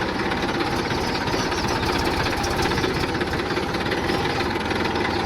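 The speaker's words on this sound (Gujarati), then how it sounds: "અને ખેતરે જઈ રહ્યા છે હવે ટ્રેક્ટર લઈને" A tractor's loud diesel engine chugs steadily at close range, a constant knocking rumble with no pauses.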